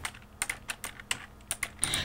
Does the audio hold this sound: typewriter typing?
yes